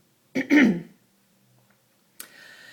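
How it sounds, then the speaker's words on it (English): A single close cough, a short throaty burst followed by silence, then a faint rustle. "Sorry about the cough there."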